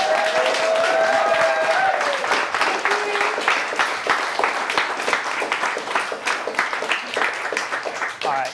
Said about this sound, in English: warm round of applause for Bridget